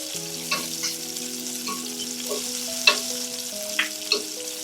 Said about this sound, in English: I'm just going to flip them and cook the other side for a good couple minutes